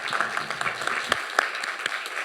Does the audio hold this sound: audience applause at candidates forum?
yes